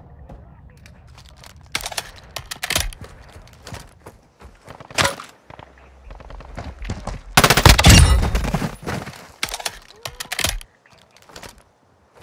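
Bursts of automatic gunfire and scattered single shots from Call of Duty: Modern Warfare 2 combat, loud and clustered, with the heaviest volley in the middle and sharp cracks spread throughout, alongside clicking clatter.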